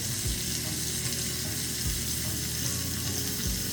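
Butter and Worcestershire sauce sizzle steadily in a pan over medium heat for mushroom gravy, a continuous close frying hiss with a few soft low knocks from the pan.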